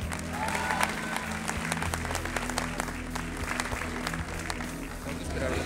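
A large crowd claps and cheers continuously, dense applause filling the whole stretch at an even, loud level.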